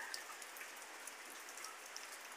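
Steady rain falls during a hurricane with strong wind in Guerrero, Mexico, a soft continuous hiss with scattered drops tapping nearby, heard alone with no voices.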